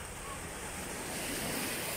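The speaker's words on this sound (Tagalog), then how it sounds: "So talagang nangungusap bawat tilapsik ng alon." Ocean waves wash onto a beach in a steady, breathy rush, with wind noise buffeting the microphone and the surf swelling slightly louder toward the end.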